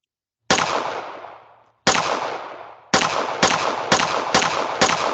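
Gunshots in a Unity VR shooting game sound as sharp, loud reports: two single shots spaced apart, then a quicker run of four or five, each with a short decaying tail and no voices.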